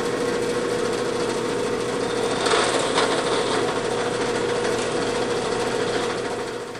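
A steady, loud power drill whirs continuously, boring bigger holes in a hunting knife handle, with a slight surge in pitch midway, grinding close by.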